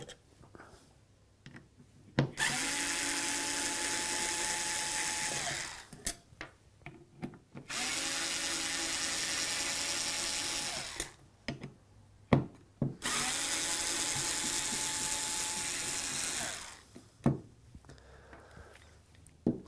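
Small electric screwdriver whirring in three sustained bursts of several seconds each as it backs Torx screws out of a car ECU lid, with brief clicks and handling noises between runs.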